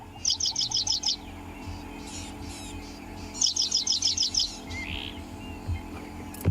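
On a safari drive, a bird repeats a quick series of about six sharp, high chirps, pauses, then delivers a second matching series, clear against quiet outdoor background.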